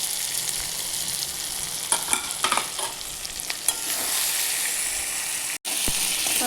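Chicken pieces fry with tomatoes in a pan, giving a continuous close sizzle with clustered stirring scrapes early on and a brief dropout near the end. No voices are heard.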